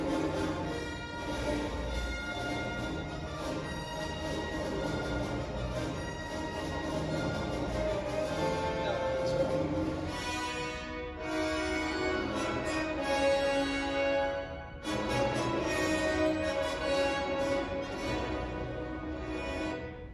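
An orchestra plays one theme and then moves into another, with full strings and brass sounding continuously and a brief drop in volume around the changeover.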